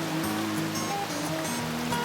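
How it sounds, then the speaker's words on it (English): Creek beside the Smokemont Loop trail in Great Smoky Mountains National Park, a steady close babble and rush of flowing water over a short span. "Certainly the creek is an early highlight."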